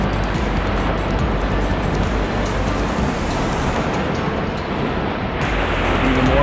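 Roaring giant waterfall at Háifoss in Iceland's Thjórsárdalur valley, a steady broadband rush of falling water that fills the whole clip without a break.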